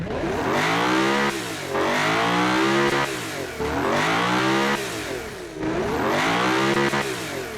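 A Le Mans hypercar engine in BeamNG.Drive revs hard in repeated pulls, climbing in pitch to a loud scream, dropping back, then rising again about four times in a steady rhythm.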